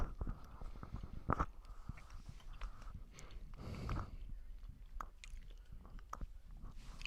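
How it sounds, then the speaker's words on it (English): Someone chews gum close to the microphone, a quiet, irregular series of soft wet clicks and smacks with faint background shuffling and no speech. "I'm sorry if you can all hear me chewing."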